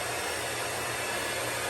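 A blow dryer on its cool setting, blowing air at a beard, gives a steady, loud, unbroken whoosh of air from start to finish with no talking.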